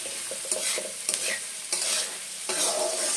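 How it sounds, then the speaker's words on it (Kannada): Onions fry with turmeric and salt in a pan, a steady sizzle broken by several scraping stirs of the spatula, close and alone with no voices. "ಇವಾಗ ಇದು ಸ್ವಲ್ಪ ಚೆನ್ನಾಗಿ ಫ್ರೈ ಆಗಲಿ ನೋಡಿ ಇವಾಗ ಈರುಳ್ಳಿ ಚೆನ್ನಾಗಿ ಫ್ರೈ ಆಗಿದೆ"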